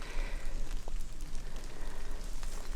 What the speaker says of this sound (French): je pense que vous pouvez entendre la pluie